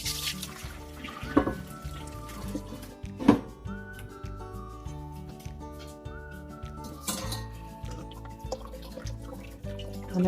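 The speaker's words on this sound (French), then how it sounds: "Donc je suis maintenant prête à filtrer le sirop." Homemade shiso syrup drips and trickles through a strainer into a pot, with scattered clinks and knocks of utensils against metal and a faint tonal hum in the background.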